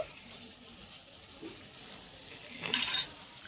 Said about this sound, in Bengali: চিনি দিয়ে আমি 1 মিনিট এরকম নেড়ে চেড়ে নেব।